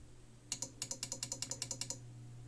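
A homemade battery charger's protection circuit trips in a rapid run of about a dozen sharp, evenly spaced clicks, close and crisp, over a steady low electrical hum, with voltage above 17 volts.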